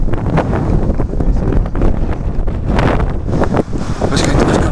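Strong outdoor wind rumbles and gusts loudly against the microphone for several seconds, a dense continuous roar with uneven surges.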